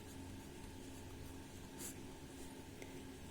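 Chalk or marker writing a Hindi word on a classroom board, faint scratchy strokes over a quiet room hum, with a brief louder scrape near the end.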